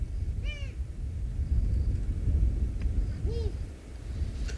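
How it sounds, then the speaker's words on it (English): Owls call during a night safari drive in the African bush, two short hooting calls separated by a pause, moderately distant over steady low rumble and wind. "So these owls are very serious about it."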